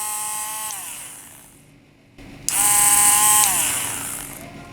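An electric mini drill rotary tool, a grinder-type kit, whirs at close range with a steady high whine that falls away, pauses briefly, then starts again louder and keeps spinning.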